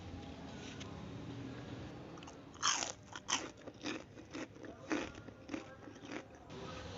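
Crispy deep-fried white tofu, golden brown, is bitten into several times, giving sharp crunchy bites followed by a run of rhythmic chewing crunches, close up, after a quiet start.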